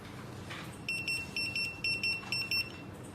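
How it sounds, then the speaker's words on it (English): Repeated short electronic beeps from a JT-935 guest paging system, about eight sharp high-pitched tones in uneven bursts, moderately loud over a quiet room background. "change the number to 1 to turn on the beep sound"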